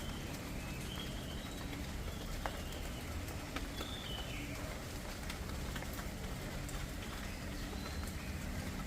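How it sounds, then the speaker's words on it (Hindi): Steady rainfall patters across the whole stretch while several birds call and coo faintly over it, including what sounds like a dove, with no talking. "कितनी मधुर आवाज़ें हैं परिंदों की।"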